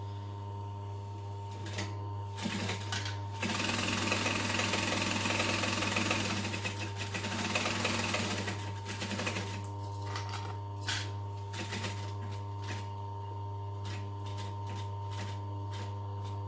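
A sewing machine runs in bursts while stitching along the edge of a tote bag, a close mechanical whirring rattle that speeds up for a few seconds, then drops to short intermittent clicks over a steady electrical hum.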